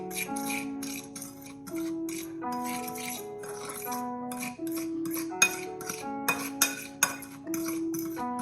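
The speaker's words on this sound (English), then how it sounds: "all we have to do is just get that mixed in together very," Sugar and cinnamon being mixed in a bowl give a rhythmic run of metallic clinks and scrapes from a utensil against the bowl, fairly close, with a few louder taps near the end and no speech.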